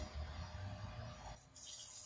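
Dirty isopropyl alcohol is poured into a jar, giving a steady close liquid splash and trickle that thins out toward the end.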